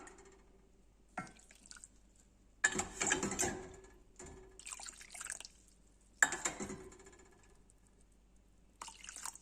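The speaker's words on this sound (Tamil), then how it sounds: "இப்போ இதில் வந்து ஒரு ரெண்டே கால் கப்பு தண்ணி சேர்த்துக்கலாம்" Water is poured into a pan for sago halwa in several short, splashing bursts with quiet pauses between them. It is close by, and nobody speaks.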